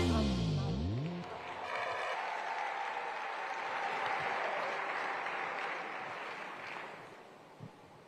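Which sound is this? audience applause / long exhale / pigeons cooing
audience applause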